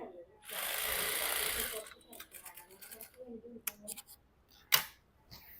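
A sewing machine stitches Patiala salwar fabric in one loud, close, steady run of rapid stitching lasting about a second and a half, followed by quieter handling clicks and someone talking.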